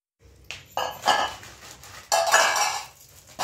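A spoon scrapes and clinks against a bowl while ingredients for a chaat are mixed, with irregular close scraping strokes and soft knocks over a few seconds.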